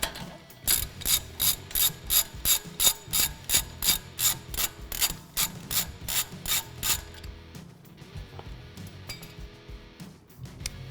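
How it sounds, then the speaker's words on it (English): A socket ratchet backs off the sway bar link nut on a 2018 Toyota Tacoma 4x4 during a leveling kit install, a loud, rapid run of evenly spaced clicks that slows and fades into a few scattered clinks. "I'm gonna switch to my socket, wrench, my ratchet to get it the rest of the way off."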